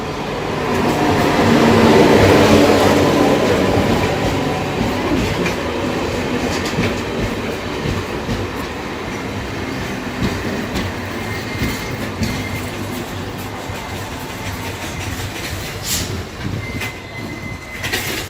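The 06594 MEMU electric passenger train from Devanahalli Airport toward Hosur pulls in at a railway station, a loud rumbling approach that peaks early then settles into a steady rolling clatter of wheels on rails, with faint squeal and no talk.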